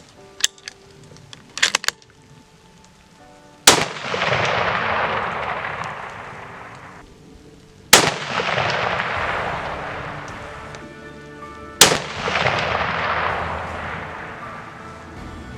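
Three loud, sharp 300 Win Mag rifle shots fired at a 700-yard target, spaced about four seconds apart, each followed by a long rolling echo; two small clicks come before the first shot.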